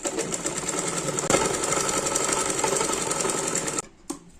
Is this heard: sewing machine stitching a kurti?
yes